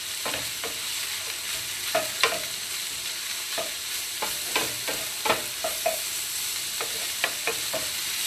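Peppers and broccoli sizzle steadily in a hot pan while a utensil stirs them, sending sharp scraping clicks and crackles every second or so over a continuous frying hiss; no voices.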